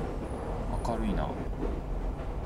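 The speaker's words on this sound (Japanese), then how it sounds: "電車来た。" A ghost train arrives in a horror video game, a steady low rumbling roll with faint rail clatter, heard under people talking excitedly.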